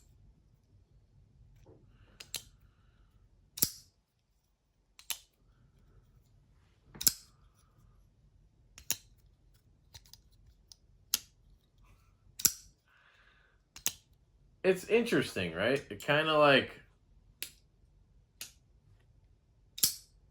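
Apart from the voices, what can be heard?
pocket knife flicked open, clicking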